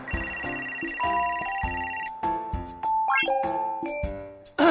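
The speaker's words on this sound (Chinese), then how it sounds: "接个电话" Phone ringtone playing a bright electronic melody of repeated chiming tones, clear and moderately loud, running continuously before breaking off at the end.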